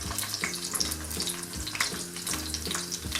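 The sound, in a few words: onions frying in oil in a pan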